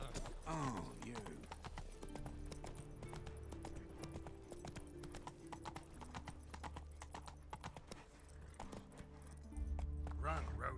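Roach, the horse in The Witcher 3 game, gallops with rapid rhythmic hoofbeats clip-clopping throughout, steady and close, with a brief snort near the end and occasional spoken lines over the hooves.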